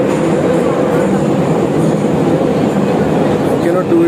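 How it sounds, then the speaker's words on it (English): A Baku underground metro train rumbles along at speed, a loud constant roar with faint wheel clatter heard from inside the carriage, steady from start to finish with a brief dip near the end. "It is underground metro."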